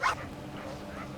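An avalanche rescue dog gives a short bark or yip during a search exercise in snow, one brief close sound at the start followed by quiet outdoor hush.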